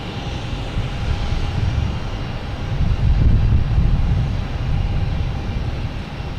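A JetBlue Airbus A220 jet lands at Boston Logan Airport, a loud, steady low rumble with a thin whine above it, swelling slightly midway and holding without voices.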